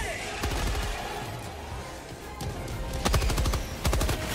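Rapid automatic gunfire crackles through the video game Helldivers 2 in dense bursts, with a louder volley near the end, while voices talk over the shooting.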